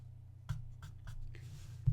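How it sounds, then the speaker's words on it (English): A tortillon or paper stump blends graphite across paper in short left-and-right flick strokes, giving soft, close scratchy swishes in a loose rhythm over a steady low background hum. "Just go left and right with flick marks with your tortillon or paper stump."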